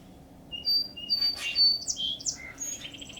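A red-winged blackbird sings in spring, with several sharp, high whistled notes followed by a buzzy, rattling trill. The song is clear and fairly close over a low outdoor background, with no talk.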